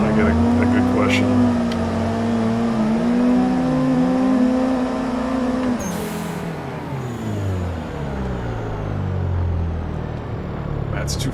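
Car driving in the game Assetto Corsa, a loud engine revving and shifting up and down with smooth rising and falling tones, a voice talking over it.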